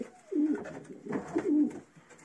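Soft, throaty pigeon coos in two short bursts, close by, with a quiet pause between them.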